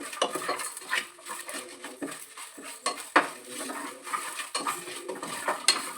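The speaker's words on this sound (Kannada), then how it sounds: "ಹಾಕೊಂಡು ನೀಟಾಗಿ ಫ್ರೈ ಮಾಡ್ಕೊಳ್ಬೇಕು" Guntur chillies stirred and fried in a pan, with close, irregular clinks and scrapes of a spoon against metal over a faint sizzle, no talking.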